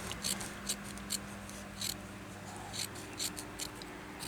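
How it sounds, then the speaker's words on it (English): Scissors snip small fabric pieces for a crazy patchwork quilt, making a steady series of light, close cutting clicks, roughly a dozen evenly spaced over a faint background hum. "I'm going to cut out a couple of little pieces here"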